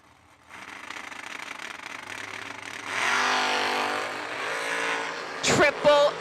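Drag racing cars, a Mustang in the left lane, launch at an end-of-year race event, engines building from a steady idle into a loud, sustained roar, with sharp bangs near the end.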